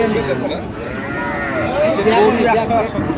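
Cows moo and low repeatedly amid a busy crowd at a cattle market in Bangladesh, with people talking over and around the animal calls.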